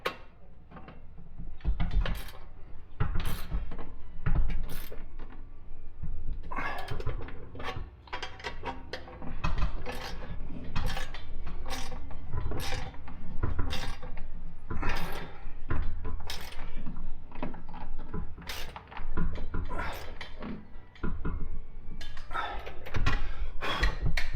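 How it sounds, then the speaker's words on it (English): A wrench tightens bolts on stainless steel garage shelving, a long run of sharp metallic clicks and clanks in irregular bursts, close and fairly loud, with brief pauses between rounds. "We're going to, again, tighten it up with our wrench."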